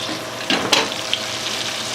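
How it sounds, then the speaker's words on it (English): Steak sizzling in a hot pan as butter and garlic are spooned over it, a steady close frying hiss with a few spoon clinks and splashes. "Grab a spoon and wash it over with that butter and that garlic just to get that beauty"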